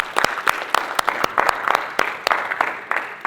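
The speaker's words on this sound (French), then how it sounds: "Alors on va applaudir tous les participants." An audience at a dance audition event claps for all the participants, a dense burst of applause with sharp individual hand claps standing out, steady and fairly close.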